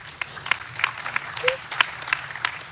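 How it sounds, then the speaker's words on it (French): Scattered applause from a solar energy conference audience, a handful of sharp distinct claps spaced out over a few seconds, fairly quiet and thin rather than a full ovation. "Je crois qu'on peut l'applaudir."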